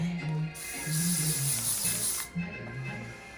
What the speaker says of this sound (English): you can spray directly on the brush and then brush